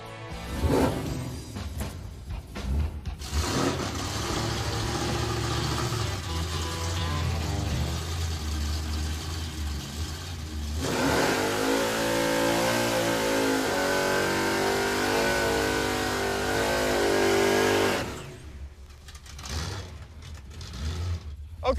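A Chevrolet Impala drag car launches down a drag strip, its engine roaring loud and sustained as it revs and pulls hard, then the sound cuts off sharply near the end with some distant background noise.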